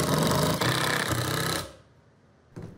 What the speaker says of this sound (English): then I can once again add screws to strengthen everything up